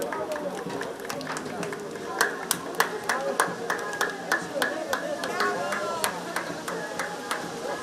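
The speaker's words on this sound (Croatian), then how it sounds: "Molim jedan aplauz za Star Max." Spectators at a hippodrome clap for a racehorse, a scattered, uneven run of sharp claps under crowd chatter and talk, building into a livelier burst midway.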